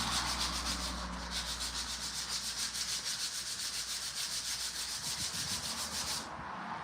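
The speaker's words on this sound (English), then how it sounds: "So it's easier to just do the inside sanding beforehand, and then we can do the outside sanding afterwards." Steady close-up sanding of carved wood on a gnome house, a continuous rasping rub with rhythmic back-and-forth strokes, alone without talk, cutting off just before the end.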